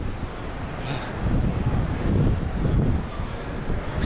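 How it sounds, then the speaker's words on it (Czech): Wind blowing across the deck of a cruise ship at sea in the Caribbean, a steady low rumbling buffet that swells stronger through the middle, with no voices. "Trošičku se nám zvednul vítr."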